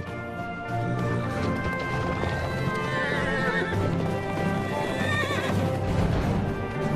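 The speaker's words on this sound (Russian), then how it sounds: "Пустынные лошади." Desert horses in the Namib whinny and neigh repeatedly over a steady clatter of hooves, loud and close, with a rough outdoor background throughout.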